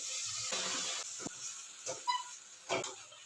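Beetroot softened in ghee sizzles as milk is poured in, a faint hiss with brief bubbling pops and spits at close range.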